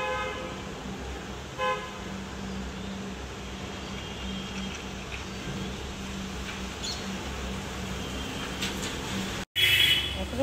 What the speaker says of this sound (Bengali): রাস্তায় গাড়ি যাচ্ছে, জল ছিটিয়ে ছিটিয়ে।